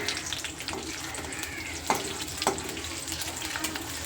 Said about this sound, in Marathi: तळल्या मिरच्या पटकन.